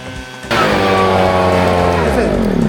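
A gasoline engine snow blower starts abruptly and holds a loud, steady roar at a constant high drone, rough and mechanical, with no talking.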